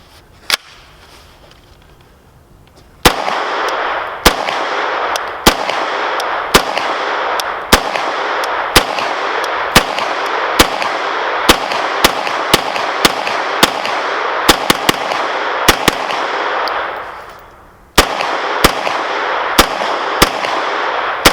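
CZ Scorpion EVO 3 S1 pistol with factory folding stock and Gear Head Works Mod 1, firing steel-case 115 grain ammo: one early shot, then a long fast string of loud, sharp reports with echo, a pause, and a few final shots.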